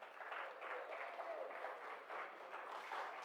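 An audience at a 2023 grants handover ceremony gives a round of applause to the fund's accounting officer, steady moderate clapping that stays even throughout.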